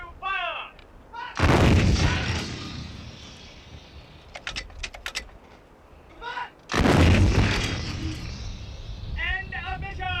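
Two loud, booming artillery blasts from field guns fire several seconds apart, each with a long rolling decay, between radio-style voices giving commands.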